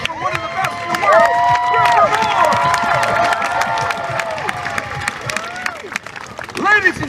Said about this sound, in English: a nice round of applause for one of the best in the world